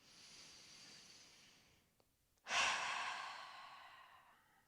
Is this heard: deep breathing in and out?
yes